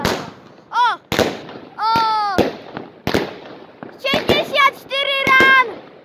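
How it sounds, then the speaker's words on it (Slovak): A string of firecrackers explodes in sharp, loud bangs, irregular and closely spaced, some in rapid clusters, mixed with whistling rising tones from fireworks and a voice nearby. "Ale budú petardy."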